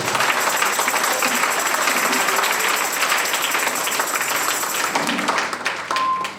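An audience applauds at a Sunday church gathering, dense sustained clapping from a crowd that continues for several seconds before thinning out, with a voice faintly under it.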